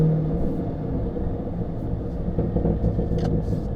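A 2025 Cadillac Escalade V rumbles steadily from inside the cabin, with a few faint, sharp exhaust pops near the end.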